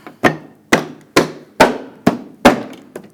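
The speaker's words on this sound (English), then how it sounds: "Tap it in place." Sharp knocks of a hand or mallet tapping a headlight assembly into place on a 2014-2018 GMC Sierra, six or seven loud, close taps at an even half-second pace.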